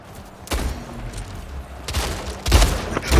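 A first-person shooter match with shotgun and sniper fire: a few sharp, loud gunshots punctuate the stretch, with two distinct blasts near the start and middle and a heavier burst of shots toward the end.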